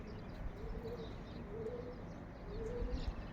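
Soft, low pigeon coos repeat a few times against a dense, noisy outdoor background, fairly faint and somewhat distant.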